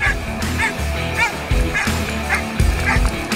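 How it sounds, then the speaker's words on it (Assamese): A Belgian Malinois sniffer dog from a forest department canine squad barks repeatedly at a Republic Day parade in Kaziranga, sharp close barks with yips and whimpers between them. "বেলজিয়াম মেলিনোছ নামৰ কুকুৰীৰে চোৰাং চিকাৰী অনুসৰণ"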